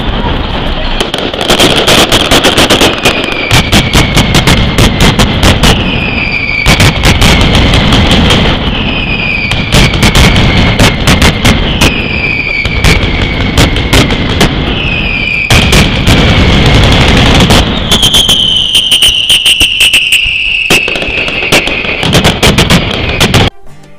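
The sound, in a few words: Mascleta firecracker explosions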